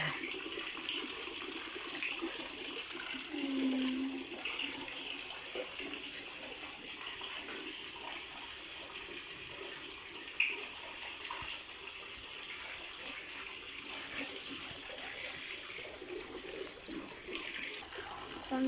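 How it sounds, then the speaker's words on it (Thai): A strong waterfall running in full flow, a continuous loud broadband rush of water that holds steady throughout with no voices. "อาทิตย์นี้แรงมากน้ำแรง นอนฟังเสียงน้ำตกทั้งคืนเลยค่ะ"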